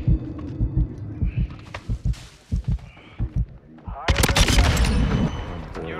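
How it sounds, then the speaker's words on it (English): Bursts of RPK machine gun fire in Call of Duty MW2 rattle out in short repeated volleys, then a louder, denser barrage near the end, with game effects and a voice underneath. "They're just walking into my bullets at this point."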